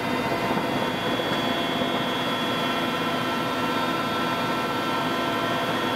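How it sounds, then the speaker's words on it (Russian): A Mi-8 helicopter fitted with a water-dropping device roars steadily and loudly overhead, a continuous dense whirring noise with no pauses throughout. "Туда вылетел вертолет Ми-8, оборудованный устройством для сброса воды."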